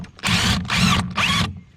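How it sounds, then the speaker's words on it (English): An electric impact gun hammering on a Cyclone Rake impeller to press it off: three close, loud bursts of rattling impacts, each about a third of a second long, with short gaps between them. "And we're going to press the impeller off. And of course, I have my electric impact gun."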